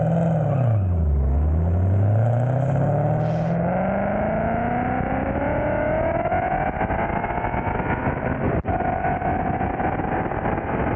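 A modified Ford Mustang of roughly four-figure horsepower accelerating hard in a race, the engine note dropping on a shift then climbing in a long sustained pull, loud and close throughout.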